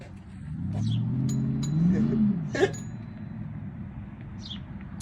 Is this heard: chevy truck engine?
yes